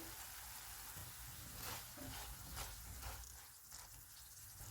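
Chicken cooking in a covered pan gives a steady, soft sizzle and bubbling hiss that holds even throughout.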